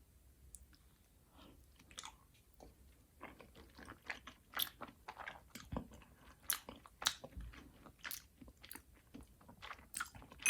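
Rosé tteokbokki, with Vienna sausage, bacon and quail eggs, is chewed and bitten close up, with soft wet chewing and scattered sharper crunchy bites in an irregular rhythm over quiet background.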